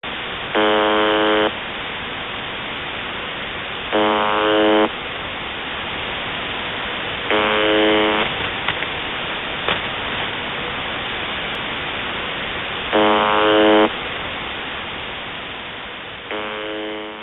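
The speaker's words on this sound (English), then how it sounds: "UVB-76, or the buzzer. It is a Russian military station" The UVB-76 Russian military shortwave station's harsh, droning buzzer tone repeats about every three to four seconds over a constant hiss of radio static.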